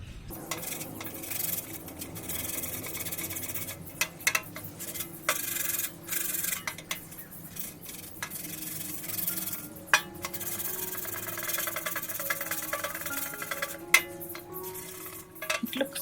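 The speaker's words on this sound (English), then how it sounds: "I'll rub it with the sandpaper." Sandpaper rubbing paint on a metal planter box on a balcony, steady continuous scratchy scraping, fairly faint and close, with occasional small clicks.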